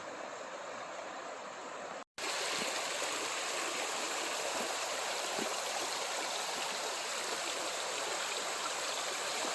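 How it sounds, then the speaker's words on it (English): River rapids near Mattawa rush in an unbroken, even roar of white water, close and steady, interrupted only by a brief cut early on, with no voices. "I guess it's just rapids."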